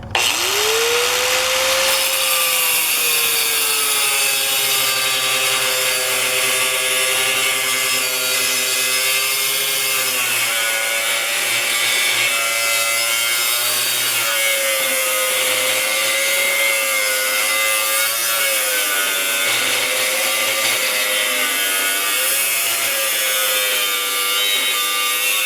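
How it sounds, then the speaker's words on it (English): A small handheld power tool whines steadily and loudly while cutting through steel a little over an eighth of an inch thick, its pitch sagging and wavering under load for the full length with no talking. "Cutting through steel that is, let's say, a little over an eighth of an inch thick."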